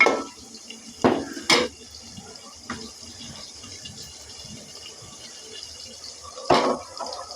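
A utensil stirs boiled vegetables in a cooking pot. A few sharp metallic clanks and scrapes stand out against a quiet background, with softer stirring between them.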